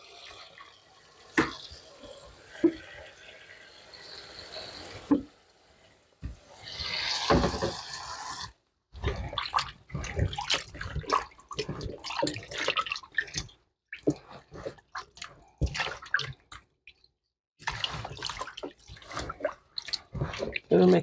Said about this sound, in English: Wash it in some vinegar.